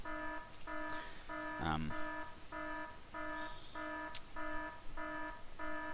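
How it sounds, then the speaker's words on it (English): The alert alarm in the video game Factorio sounds as a steady, repeating electronic beep, about two pulses a second, at moderate level with a brief sound partway through. "that just must be the standard alert radio"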